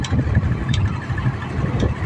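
A small motorcycle engine runs steadily at a low idle-like chug, loud and close, with a continuous rumbling tone and no talk.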